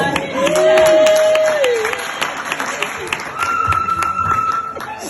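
Women in an audience at a live French-language event applaud for themselves, a dense burst of clapping mixed with cheers and high whoops that swells, eases, then rises again.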